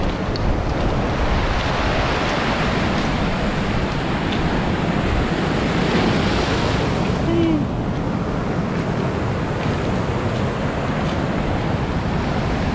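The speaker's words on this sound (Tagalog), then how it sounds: "Medyo malakas pa ang hangin dito kaya maaalon siya." Ocean waves crash steadily onto a beach at Dinadiawan, Dipaculao, Aurora, driven by strong wind that buffets the microphone in a continuous, loud roar with no clear pauses.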